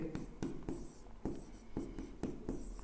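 Chalk tapping and scraping on a classroom board while equations are written, with close, repeated short strokes in quick irregular bursts and no voice.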